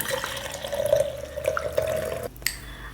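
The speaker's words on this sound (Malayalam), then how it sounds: "ഇനി നമുക്ക് ഇത് മറ്റൊരു പാത്രത്തിലേക്ക് അരിച്ച് ഒഴിക്കാം" Boiled squash liquid strained and poured into another vessel, a continuous close trickle and splash that stops abruptly near the end.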